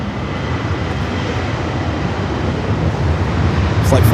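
A Lufthansa Boeing 787 Dreamliner on short final to land at LAX produces a dense, rising rumble that swells louder toward the end as it nears, with speech faintly present.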